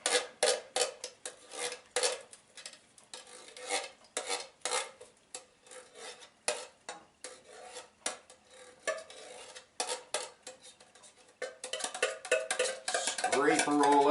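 A spoon scrapes concentrated tomato sauce out of a metal can into a pot, uneven rasping strokes in quick irregular bursts, close and fairly quiet, ending in a denser stretch of scraping.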